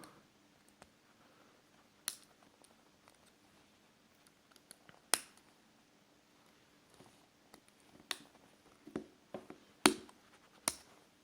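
Prying the numeric keypad off a Sony Ericsson W880i phone with a hook or tweezers, small sharp plastic clicks and ticks that are sparse at first and then grow more frequent near the end, close and faint.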